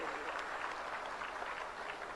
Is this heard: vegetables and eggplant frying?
no